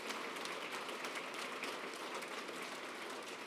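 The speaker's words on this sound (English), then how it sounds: "please join me in giving our panelists a round of applause" An audience at a business conference session applauds its panelists, dense even clapping from a large room, sustained and fairly faint for the whole stretch with no voices.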